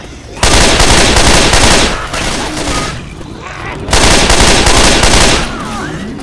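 Left 4 Dead 2 firefight on a custom Ravenholm map, with loud, rapid bursts of automatic gunfire in two long volleys separated by a brief lull, while players shout over the shooting.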